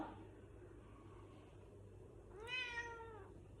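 A cat gives a single clear meow near the end, close and moderately loud over a quiet room hum, after a stretch of near silence.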